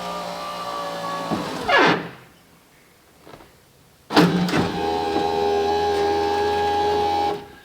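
Electric power window motor in a 1980 Cadillac whirring as the glass moves, stopping with a thunk, a short pause, then running again at a steady hum for several seconds before cutting off.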